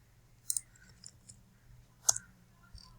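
A computer mouse clicks sharply twice, about a second and a half apart, with a few fainter clicks and taps in between, heard close up in a quiet room.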